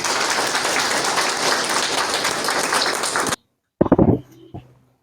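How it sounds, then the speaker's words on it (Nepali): A church congregation applauds to welcome their pastor, dense loud clapping filling the hall for about three seconds before stopping abruptly, then a voice speaks briefly. "यो समय हाम्रो आदरणीय पास्टरज्यूलाई हामी ताली बजाएर स्वागत गर्नेछौँ"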